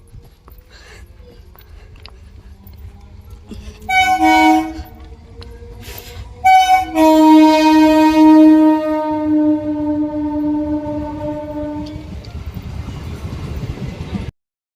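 A train passes close by, its horn sounding in long loud blasts over a steady rumble of wheels and cars that fades as it moves away.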